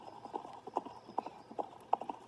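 Rhythmic clip-clop of horse hooves while riding in a video game, moderately loud and steady, with sharp hoof strikes recurring roughly twice per second and no other sounds prominent.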